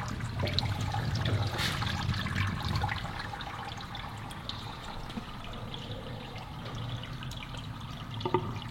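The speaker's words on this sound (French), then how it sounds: "L'évier se vide en maximum 15 secondes." Water drains from a newly fitted IKEA kitchen sink, a quiet, continuous gurgling trickle running steadily for several seconds, fairly close.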